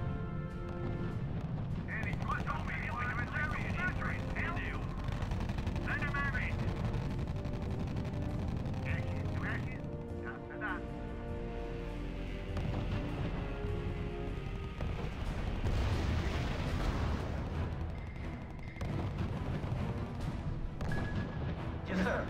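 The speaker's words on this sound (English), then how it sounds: "Unit reports heavy fire." Heavy gunfire and artillery rumble steadily from a WWII strategy battle in the video game R.U.S.E., a dense, continuous low roar with scattered sharper blasts, under game music and voices throughout.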